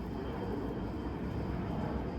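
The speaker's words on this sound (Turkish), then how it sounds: "Yine uçak geçiyor arkadaşlar." A low-flying airplane passes close overhead with a loud, steady, broadband rumble that fills the whole moment, with no voices over it.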